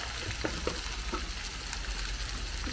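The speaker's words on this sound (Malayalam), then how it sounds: "ആ സവാളയും ഇതെല്ലാം ഒന്ന് യോജിപ്പിച്ചെടുക്കാം" Onions, potatoes and carrots stirred together in a hot pan for an egg stew, a close, even sizzle with a few soft scrapes of the spoon breaking through.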